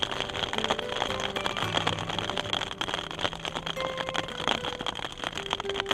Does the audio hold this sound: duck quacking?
no